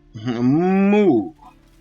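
A single close, drawn-out moo from the Strange Ox in the video game Baldur's Gate 3, rising and holding for about a second before tailing off.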